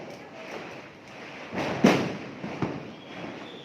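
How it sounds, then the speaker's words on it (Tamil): Diwali firecrackers burst at a distance, two sharp cracks about a second apart rising over a steady outdoor hum, the first louder than the second. "பயங்கரமாக அடிக்கிறாங்க பட்டாசு"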